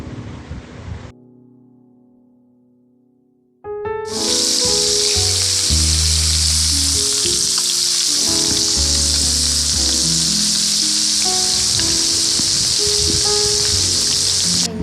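Fish frying in a pan at night in a dark village kitchen: after a quiet pause, loud continuous sizzling bursts in and roars steadily for the rest, with clinking and scraping underneath.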